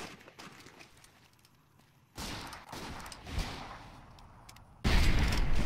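Volleys of gunfire in Fallout New Vegas in the town of Goodsprings, with a quiet stretch giving way to loud, sustained bursts of overlapping shots and a sharper, heavier final volley.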